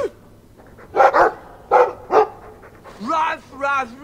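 A dog in the video game Dragon Age II gives four short, punchy barks in two pairs, close and loud, followed by a voice imitating the barking with drawn-out ruff sounds.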